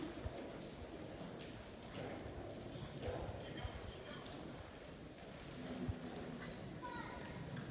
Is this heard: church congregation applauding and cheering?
no